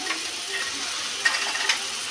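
Kochur loti sizzles steadily in a pan with mustard, cumin and chili spice paste, a soft continuous hiss with faint stirring clicks and no voices.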